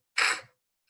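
A voice imitating a pebble scraping on the street, a single short breathy hiss like the sound of the letter C, close and alone.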